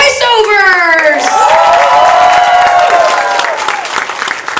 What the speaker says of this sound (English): give this last round of applause to our voiceovers